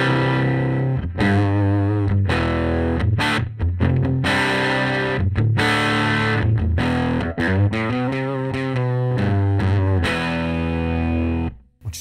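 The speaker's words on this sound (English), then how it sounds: "Getting a nice, beautiful brown sound almost out of the guitar amp." Electric guitar through a vintage Sunn 100S tube amp turned up loud, giving a thick, driven tone: continuous strummed chords and ringing notes, loud and close, with no talking.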